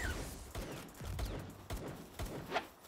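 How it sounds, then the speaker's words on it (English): Gunfire in the Palworld video game, several sharp shots scattered over a few seconds against a busy game background with clicks and a brighter hit near the end. "We're getting shot"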